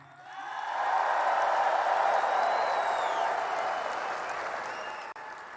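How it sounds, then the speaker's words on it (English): A campaign rally crowd in Toledo breaks into sustained applause, a dense wash of clapping that swells quickly, holds steady and slowly fades. "You clap if you want that."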